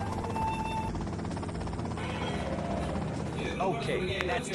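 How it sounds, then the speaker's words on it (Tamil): A helicopter arrives in the GTA Vice City mobile game, its steady whirring rotor drone running throughout beneath someone talking over the gameplay. "இப்போ ஹெலிகாப்டர் வந்துருச்சு"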